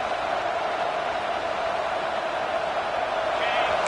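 Home stadium crowd at an American football game, a dense, steady roar of cheering that swells slightly toward the end.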